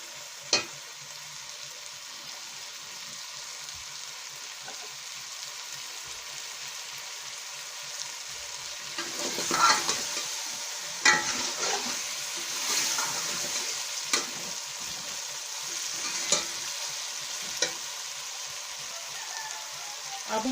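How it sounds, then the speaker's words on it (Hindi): Potatoes frying in a pan for a mixed vegetable dish, a continuous hiss of oil broken by periodic scrapes and knocks of a spoon stirring them, close and without talk. "थोड़ी देर आलू को भूनेंगे।"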